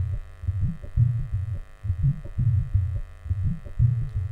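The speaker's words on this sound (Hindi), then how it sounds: "ये जो आप अभी सुन रहे हो वो है मैक्स बेस का आउटपुट" Max Bass plugin output on an audio track, playing alone as a deep, pulsing low bass throb in a steady rhythmic pattern over a faint constant hum.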